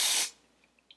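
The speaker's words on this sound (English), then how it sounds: "the spray will help it to pretty much stick" A short, close hiss of an aerosol spray misting onto a wig's edge, lasting about a quarter second and then cutting off, followed by a few faint small clicks.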